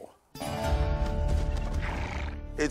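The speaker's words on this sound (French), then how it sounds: "Et voici le cheval." A ridden horse, brought out for a comparison test against cars, lets out a loud, close, drawn-out neigh with trembling harmonics that runs nearly the whole moment and ends in a brief snort-like flourish.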